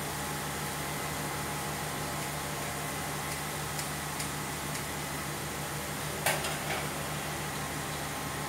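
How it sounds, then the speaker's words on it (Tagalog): Squid adobo with coconut milk and chili sizzles steadily in a pan while being stirred, a constant frying hiss with a few faint utensil taps and one brief scrape near the end. "haluin lang po natin"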